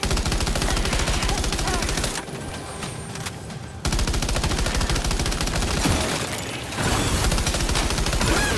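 Heavy gunfire in the video game Death Stranding 2, with loud, rapid automatic bursts that run nearly nonstop and drop away only in two short lulls.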